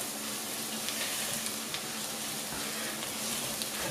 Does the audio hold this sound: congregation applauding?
no